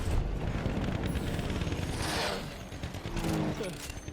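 Rapid bursts of Battlefield 1 gunfire crackle over a dense, noisy soundscape, with a second volley near the end; a voice talks faintly underneath.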